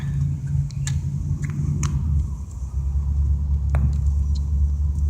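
Low engine rumble and road noise from inside a moving Cadillac, steady and close, with a few faint clicks and thumps.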